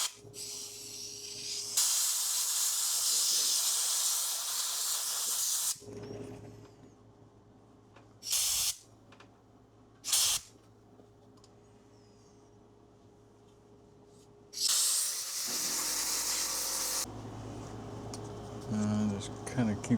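An air compressor nozzle blows dust out of a Florida live oak wood bowl in several loud hissing bursts: one long blast, two short puffs, then another long blast. Quiet workshop stretches and faint talk separate the bursts.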